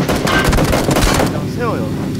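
Gunfire in the battle royale video game PUBG rattles off as a rapid burst of shots, with a voice shouting over it during a tense moment in the match.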